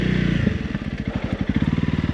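A Honda CRF 300 Rally motorcycle rides off-road, its single-cylinder engine thumping in a loud, pulsing rhythm as it pulls along in low gear, close to the microphone.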